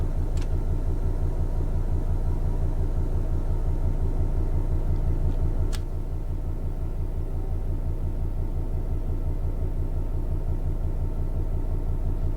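A Class 66 diesel locomotive in the Train Sim 2020 video game pulls away after its brake is released, giving a steady loud low engine rumble with a brief click and a slight drop in level midway, and no talk.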